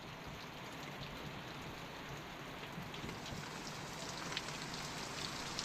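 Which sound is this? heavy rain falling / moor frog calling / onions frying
heavy rain falling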